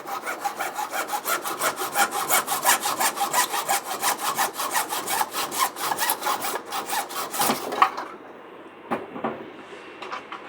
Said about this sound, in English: I'm just using my miter box to get a straight cut